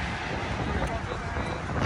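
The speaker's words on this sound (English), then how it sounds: "It's actually kind of windy." Steady wind buffets the microphone outdoors at night in busy Miami, producing a continuous rough rumble with no clear pauses.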